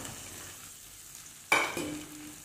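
Chopped taro leaf stalks tipped into a hot pan and stirred: a quiet low hiss, then a sudden loud sizzling burst with scraping, settling into steady frying, no talk.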